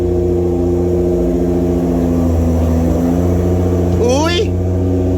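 A Nissan GT-R in for power window repair has its engine running with a steady, close idle drone, then a short rising rev near the end, with voices talking over it.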